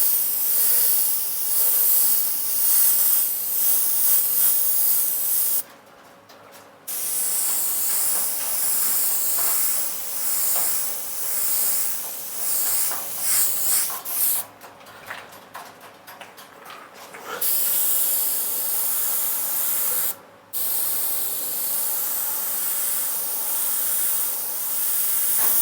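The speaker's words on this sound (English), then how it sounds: "This white's quite thick, it's not spraying as well" An airbrush sprays thick white paint in a steady, close hiss that runs for long stretches, broken by a few short pauses where the trigger is released.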